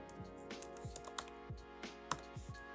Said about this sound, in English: I come over here and type it in